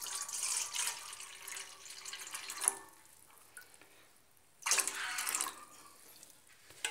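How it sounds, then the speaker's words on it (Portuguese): Water is poured from a mug into a basin in a bathroom, giving faint, close splashing in uneven bursts with quieter gaps between pours and no speech. "Agora nós despejamos a água."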